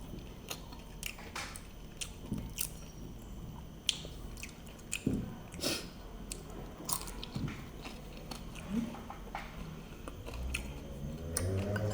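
Quiet close-up chewing of crunchy fried tuyo, a dried fish, with fried rice: scattered crisp crunches and soft wet bites at an irregular pace, with no talking.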